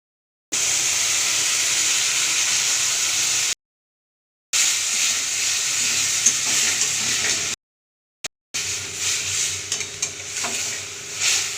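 Bitter gourd sukto, made with uchchhe, potato, pumpkin, sweet potato, drumstick and raw banana, hisses and sizzles in a pan while being stirred, a steady close frying sound in three stretches separated by silent cuts.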